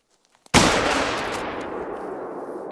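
Rifle shot fired at a brown bear in The Hunter: Call of the Wild, one loud close blast preceded by a few faint clicks, with a long rumbling echo fading across the open landscape.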